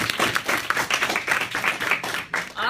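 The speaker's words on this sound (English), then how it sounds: "Let's have another round of applause." Audience applause at a parody talk-show style presentation, a brisk run of individual claps with distinct hand strikes, fairly close and alone without talk.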